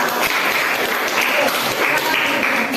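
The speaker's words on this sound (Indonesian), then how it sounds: "Tepuk tangan untuk kelompok" Students in a classroom applaud a group of classmates, a short burst of continuous clapping from many hands, fairly close and even throughout under a faint wash of room noise.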